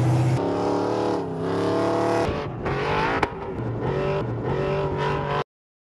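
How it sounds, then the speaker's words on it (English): Off-road trail vehicle with a Magnaflow exhaust system revving hard, a loud, close engine that climbs and falls in pitch several times, with a brief sharp crack midway before cutting off abruptly. "Magnaflow has provided us with a pretty cool system that sounds good."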